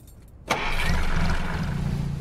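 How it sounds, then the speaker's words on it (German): A car engine starts in the video game Beyond: Two Souls, a sudden crank that catches and settles into a loud, steady idle, heard close and alone. "Motor an."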